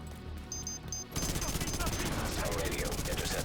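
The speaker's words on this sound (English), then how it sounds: "I hear gunfire." Dense, rapid automatic gunfire erupts in a Division 2 video game firefight, loud and continuous after a brief quieter moment with faint beeps.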